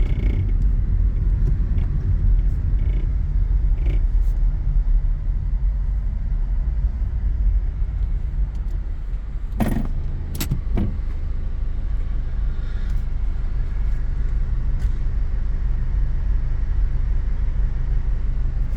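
Chevrolet C10 truck with an LS engine driving, a steady loud low engine rumble throughout with a brief sharper burst midway, no talking.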